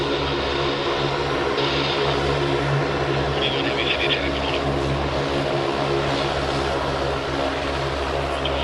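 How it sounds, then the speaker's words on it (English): A loud airliner roars on the runway at Sydney Airport, a steady close engine drone with rumbling low end and a bright high-pitched whine throughout. "here comes the loudest plane"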